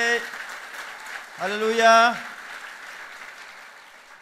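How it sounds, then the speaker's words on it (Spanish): A church congregation claps steadily throughout, soft and diffuse like light rain, while a voice calls out loudly over it about midway. "Denle un aplauso fuerte al Rey"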